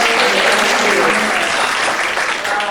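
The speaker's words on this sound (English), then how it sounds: "How about a round of applause for my helpers?" A room full of young audience members breaks into loud, dense applause for the helpers at a live science-and-magic show, steady clapping filling the whole moment without any voices.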